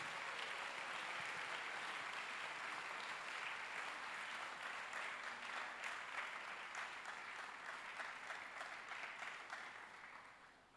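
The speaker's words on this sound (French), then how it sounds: "Acclamons pour Jésus-Christ." A church congregation claps for Jesus Christ during a worship and praise service, the dense, steady applause filling the room for the full length and easing off slightly near the end.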